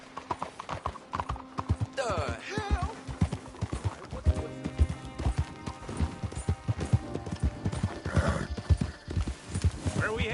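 Rhythmic hoofbeats of a galloping horse in the video game Red Dead Redemption 2, with a neigh partway through, set against music and occasional voices.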